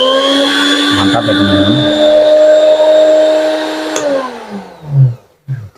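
An electric blender whirs loudly and steadily at close range, then winds down and cuts off near the end. A voice speaks briefly as it stops.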